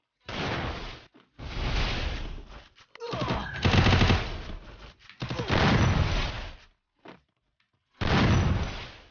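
Pistol gunfire in the Garena Free Fire mobile game, sharp shots bursting out in several separated loud volleys, with a player talking over the gameplay between bursts.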